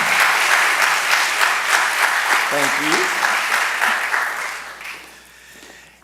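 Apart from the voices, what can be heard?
audience applause at awards ceremony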